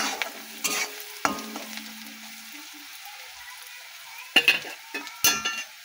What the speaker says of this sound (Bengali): পেঁয়াজটাও ভাজা ভাজা হয়ে গেছে দেখো বন্ধুরা